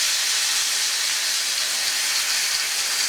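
Loud, steady searing hiss of pot roast edges pressed against a hot pan, a dense continuous sizzle with no pauses, close up.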